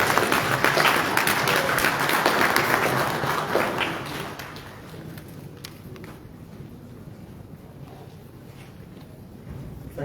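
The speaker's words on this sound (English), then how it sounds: "Let's give him another round of applause" Audience applause at an ECOWAS statutory meeting in Liberia, following a closing speech; dense clapping fills the first four seconds, then thins to scattered claps and low room noise.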